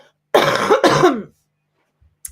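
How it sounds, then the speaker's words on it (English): Two harsh, close bursts of coughing or throat clearing in quick succession, then quiet with a faint click at the end. "Sorry, I'm really sorry for coughing"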